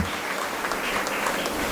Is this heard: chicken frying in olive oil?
no